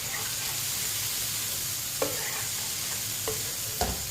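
Dal and okra cooking in a pan and stirred with a spoon, with a steady soft sizzle and a few distinct clinks and scrapes of the spoon against the pan.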